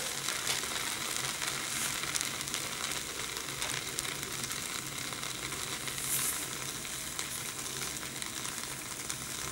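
Button mushrooms sizzling loudly in a hot pan while being stirred, a dense continuous hiss with occasional soft scrapes, close and steady throughout.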